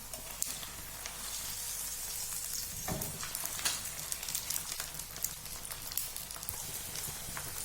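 Keema paratha fries in cooking oil on a hot pan, giving a continuous close sizzle with scattered crackles and pops throughout.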